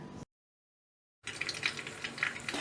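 Steady sizzling of egg-dipped lavash frying in a pan, a broad crackling hiss after a brief silence, close and fairly loud, with no talking.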